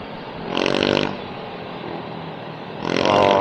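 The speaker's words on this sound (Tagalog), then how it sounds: "Traffic." Vehicles in road traffic pass close by, two loud engine surges swelling and fading over a steady background rumble, with no talk.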